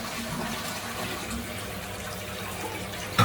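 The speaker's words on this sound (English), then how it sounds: "all we're going to do in here, run the taps," Water runs from taps in a washroom at a canine hydrotherapy centre during a maintenance shutdown, a steady, moderate hiss and splash that continues throughout, ending with a brief louder knock.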